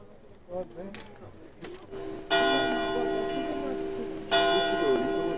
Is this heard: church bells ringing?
yes